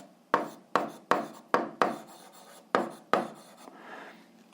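Pen or chalk writing out algebra working, a run of sharp stroke onsets each followed by short scratchy trails, evenly paced and close, ending in a softer drawn-out rub.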